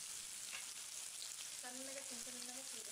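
Chopped onions frying in oil with bay leaf, cinnamon, cloves and cardamom for a Chettinad chicken curry, a constant loud hiss close up with a short faint voice-like tone partway through.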